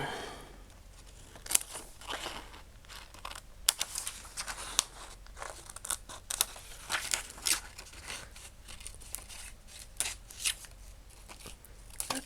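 Repeated crisp scissor snips and rustling paper while cutting out a paper tag, close and fairly quiet, in short irregular bursts with no talking.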